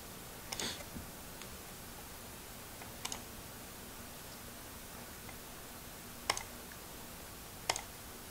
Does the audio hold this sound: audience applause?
no